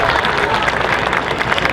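An audience at the Orlando Japan Festival 2021 cosplay contest applauds a contestant with a dense, steady wash of clapping throughout.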